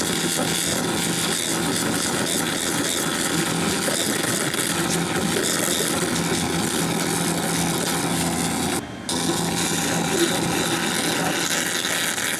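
Laser cleaning machine at 70% power stripping paint from powder-coated aluminum, heard as a steady, loud, broadband hum and hiss that runs continuously with one brief dropout, with no talk.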